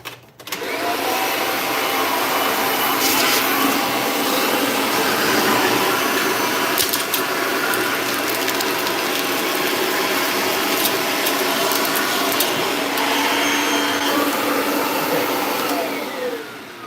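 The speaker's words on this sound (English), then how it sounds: "Let me vacuum this out before I do anything else with it." A Kirby vacuum cleaner starts up and runs steadily for a long stretch, a loud close whirring roar with small rattles as debris is sucked in, then cuts off, no voices.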